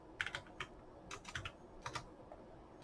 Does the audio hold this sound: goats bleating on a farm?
no